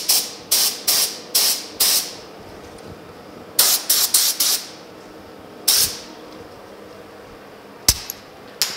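A spray gun lays base coat paint on a 1950 Chevy truck bed in short sharp hissing bursts, clustered in quick groups of three or four with gaps between, close and loud.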